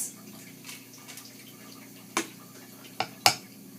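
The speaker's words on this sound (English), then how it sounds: "we need a bigger spoon now so we can fill up the cups" Spoon scraping and tapping against a bowl and muffin cups while corn muffin batter is ladled in, a few sharp clinks near the end over quiet kitchen background.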